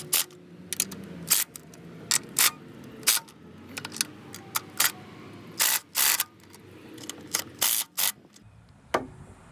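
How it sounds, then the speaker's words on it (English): Ratchet clicking as valve cover bolts are tightened on a Honda Accord engine, a series of sharp close metallic bursts of varying length separated by brief pauses. "So I'm just gonna go with a ratchet back over everything."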